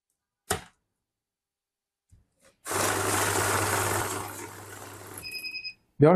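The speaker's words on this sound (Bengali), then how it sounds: "জাল নোট আসার সঙ্গে সঙ্গে মেশিন সিগন্যাল দিচ্ছে" A money counting machine beeps in a short steady series of tones after a burst of loud whirring as a counterfeit note passes through a bundle of bills; brief clicks come before it and a sudden noise follows.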